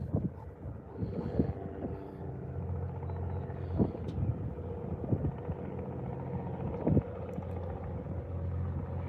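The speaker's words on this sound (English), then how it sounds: "Got a helicopter flying over." A helicopter passes overhead above Texas Gulf Coast waters, a faint, steady low rumble mixed with gusting wind noise on the microphone.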